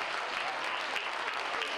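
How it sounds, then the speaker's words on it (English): An audience in an auditorium claps, a dense, even wash of applause sustained throughout the short moment. "Give yourselves a big, huge round of applause."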